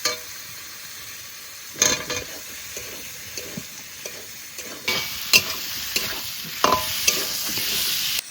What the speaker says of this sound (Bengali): আলু দিয়ে একটু নাড়াচাড়া দিয়ে নিচ্ছি